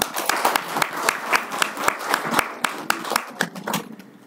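An audience applauds with a dense burst of clapping that carries sharp individual claps throughout and fades slightly toward the end.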